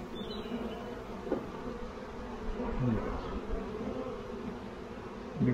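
Honey bees buzz steadily around an open hive during a spring inspection, a dense low drone of many insects with occasional louder passes close by.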